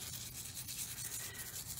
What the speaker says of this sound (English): use a little bit of mild dish soap and a toothbrush and just basically degrease any of the olive oil